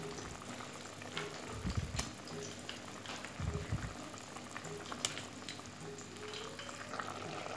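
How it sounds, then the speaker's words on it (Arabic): A piece of chicken frying alone in a pan bubbles and crackles softly and steadily, with a couple of louder low thumps and clicks as it is handled. "نحيت هذيك القطعه تاع الدجاج وراني نقلي فيها وحدها"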